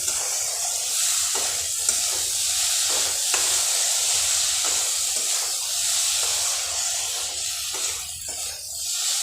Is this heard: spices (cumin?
yes